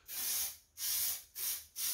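A Holden HQ GTS 253 engine is spray painted in Rocket Red with three close, loud hissing bursts from an aerosol can, separated by short gaps.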